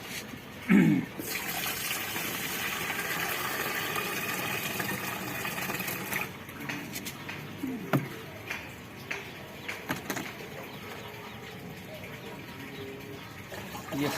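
Dissolved urea solution in water is poured into a spray pump for chrysanthemum plants, giving a steady splashing pour for several seconds, then intermittent trickles, knocks and handling noises.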